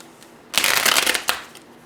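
Tarot cards being shuffled in a quick riffling burst lasting under a second, followed by a short tap, close and fairly loud.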